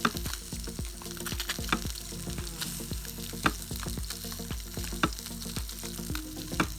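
A blue eye fish fillet sears in a pan, a continuous close sizzle punctuated by regular sharp spatula taps and clicks against the pan.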